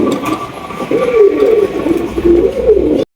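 Large Sirazi and Dragon Beauty pigeons coo in a low, wavering drone that rises and falls steadily throughout, close by and fairly loud, with faint background noise.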